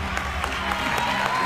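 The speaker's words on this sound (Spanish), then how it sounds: "un aplauso para Kenita" Studio audience applause fills a Chilean television comedy show, dense steady clapping mixed with crowd noise for a brief moment.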